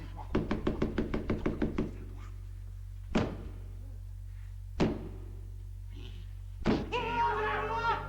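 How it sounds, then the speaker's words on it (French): A rapid series of about a dozen wooden knocks, then three slow, loud theatrical knocks spaced well apart before a stage curtain rises, followed by a brief burst of voices. "Le rideau et les 3 coups"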